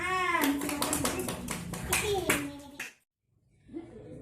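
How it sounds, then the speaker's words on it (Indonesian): Classroom of pupils clapping during an Islamic studies lesson, a burst of quick claps mixed with children's voices for nearly three seconds, then a brief silence before a voice speaks. "Ya, beri tepuk tangan"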